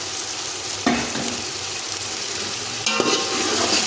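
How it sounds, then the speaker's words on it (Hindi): Tomatoes and green chillies are stirred into chicken frying in a pan for chicken pulao, giving a steady close sizzle with two sharp bursts as the ingredients hit the hot oil. "अब मैं इसमें टमाटर और सब्ज़ मिर्ची शामिल कर दूँगी"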